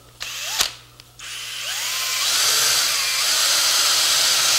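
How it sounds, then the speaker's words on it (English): A power drill bores a hole, with a couple of short whirring starts before a steady, loud high-pitched whine that builds and holds to the end. "You can drill it at kind of an angle"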